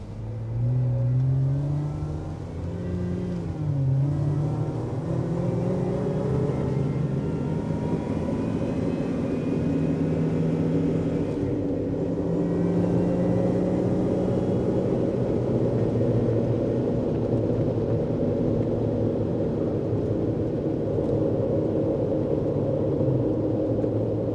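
Supercharged 2020 Jeep Wrangler engine pulls hard under acceleration, a loud continuous roar with rising and shifting engine tones across the whole stretch, close and steady with no talk.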